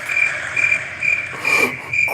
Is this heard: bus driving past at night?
no